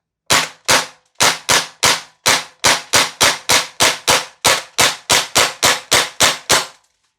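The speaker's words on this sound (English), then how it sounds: "So semi-auto here." HK UMP .45 gas blowback airsoft rifle by VFC/Umarex fired semi-auto, about twenty sharp, evenly spaced cracking shots in a steady rhythm, loud and close with no talk.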